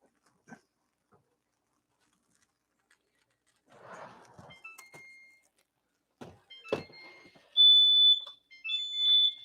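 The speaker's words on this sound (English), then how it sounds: "There goes the fire alarm" A smoke detector sets off after dressing and butter bubbled over in an oven. Scattered kitchen clunks and knocks in a quiet room lead into loud, piercing, high-pitched electronic beeping that repeats in sustained bursts.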